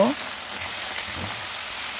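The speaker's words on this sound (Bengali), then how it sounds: "তো মাছটা আমি ভালোভাবে একটু ভেজে নেব।" Rohu fish frying in cooking oil in a frying pan gives a steady, close sizzle and hiss that runs without a break, with faint stirring.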